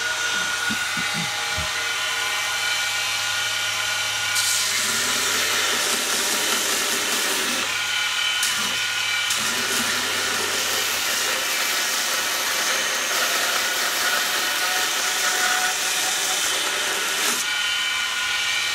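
A prototype 2x72 belt sander running at quarter speed, a continuous loud whirring hiss with a steady motor tone and shifting grinding texture as metal is pressed against the belt; no talking.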